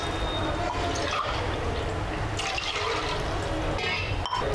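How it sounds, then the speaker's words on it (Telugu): About two glasses of water poured into a pan while making nethi payasam, a continuous splashing gush with a few drips and clinks near the end. "ఒక 2 గ్లాసెస్ వాటర్ వేసుకుందాం"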